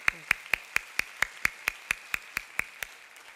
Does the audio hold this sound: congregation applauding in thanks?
yes